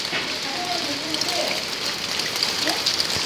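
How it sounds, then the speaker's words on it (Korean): Hail falls steadily outdoors as a dense, continuous patter and hiss at moderate distance, with faint voices in the background. "우박 소리 그만."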